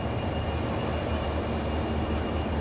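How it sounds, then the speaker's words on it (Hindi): A train rolls past during an Okha Nathdwara Express journey, giving a steady, loud roar of wheels and wagons that holds without a break for the whole moment. "एक और ट्रेन"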